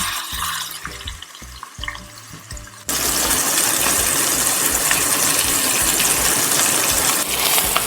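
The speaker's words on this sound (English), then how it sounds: "We fry the meat in vegetable oil. I will fry it directly in the pot." Quiet clinks and shuffles give way to a sudden loud, steady sizzle of pork neck frying in hot vegetable oil in a pot, continuing without pause.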